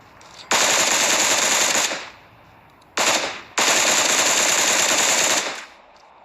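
Sustained automatic gunfire from a PUBG Mobile match blasts in two long, loud bursts with a short gap between them, plus a brief shot in the middle. No voices are heard.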